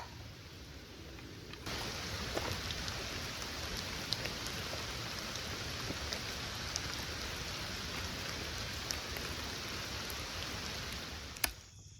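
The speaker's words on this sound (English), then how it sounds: "in the rain, on the lake" Steady rain falls on a lake outdoors, a continuous even hiss of drops on the water with a few faint sharper ticks and no voices.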